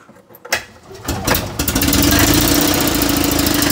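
A small Invacar engine is cranked by its Dyna start electric starter motor, then catches and roars into a steady, loud run as throttle is given, settling into a close, even idle-to-revving drone.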